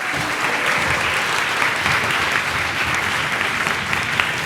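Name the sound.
audience applause at a conference talk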